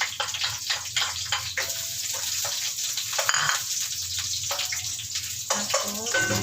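Onions sauté in a pan for ginataang manok with papaya, a steady close sizzle with hissing, watery crackle and a few stirring scrapes, under intermittent talk.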